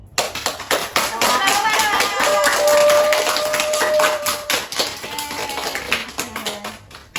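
A classroom group claps together during a counselling lab role-play session, rhythmic bursts of hand claps, with children's voices and shouting rising over the clapping in the middle, then tapering into scattered claps.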